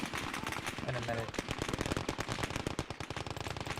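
Rapid video-game gunfire rattles in dense, steady bursts, with grenade explosions mixed in. The battle noise is loud and continuous for the whole stretch, with no pauses between volleys.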